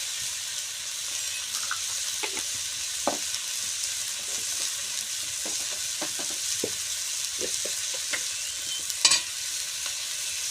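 Drumstick leaves with salt, turmeric and ground coriander-cumin frying in a pan, a soft steady sizzle with occasional stirring scrapes and light clinks, close and fairly quiet.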